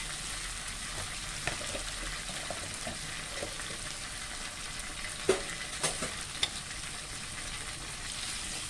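Anchovy potato chips with chili fry in a pan, a low steady sizzle with occasional stirring clinks and a few sharp knocks of utensil on pan, fairly quiet and unaccompanied by speech.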